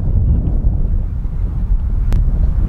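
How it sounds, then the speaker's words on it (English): Strong outdoor wind buffets the microphone at a baseball game, a loud continuous low rumble with no break across the whole stretch. "A lot of wind up here today"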